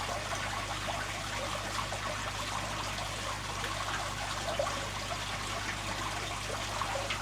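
Water being drawn up out of a small aquarium holding garden moss, a steady soft trickling and gurgle with a low background hum, continuous and faint, no talking.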